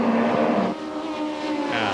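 Turbocharged 2-litre touring cars at a 1990 BTCC race roar loudly and continuously as they race past, the engine pitch shifting and dropping partway through.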